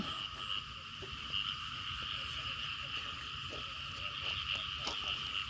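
A thick chorus of frogs croaks without a break through the early-morning air during snail gathering. The croaks hold a steady, layered drone with a few soft knocks and rustles nearby and no voices.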